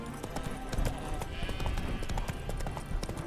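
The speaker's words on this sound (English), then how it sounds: "Spooking my horse. Roach doesn't like ghosts." A horse's hooves clip-clop at a steady trot in the video game The Witcher 3, close and continuous over the game's soft background ambience.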